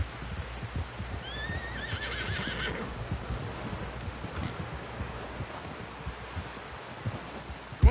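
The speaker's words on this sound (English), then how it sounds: "Someone help John down off this horse." A horse in Red Dead Redemption 2 gives a clear whinny early on, with hoof clip-clops and rustling around it, then continues shuffling and stepping at moderate distance.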